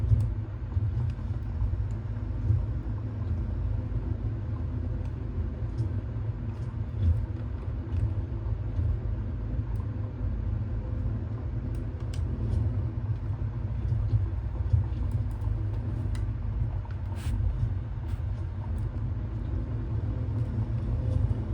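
B-17 Flying Fortress radial engines taxiing in a flight simulator game, a continuous low rumble that holds steady and moderately loud throughout, with no speech over it.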